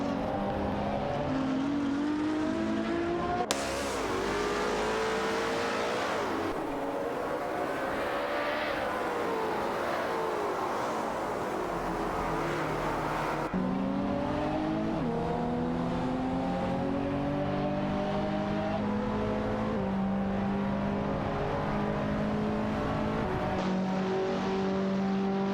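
Race cars in an AI racing game roar past one another, engines whining and shifting pitch as they accelerate and downshift, a continuous loud layered engine drone with rising and falling tones and no talk.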